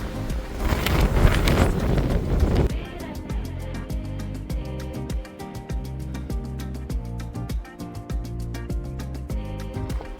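Gusty wind at a canyon hiking trail in Palo Duro Canyon State Park roars loudly against the microphone for the first few seconds, then gives way to a steadier, patterned background.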